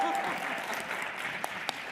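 An audience applauds a panel of women founders at a business event. The clapping is close, dense and continuous over about two seconds, with a couple of sharper individual claps near the end.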